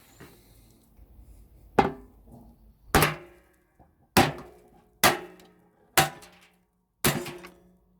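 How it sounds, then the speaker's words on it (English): Six sharp metallic hammer blows knocking at a vintage washing machine pump ring out one after another at roughly one-second intervals, each followed by a brief rattling decay, with no talking. "We might just knock that off with a foul swing of the hammer."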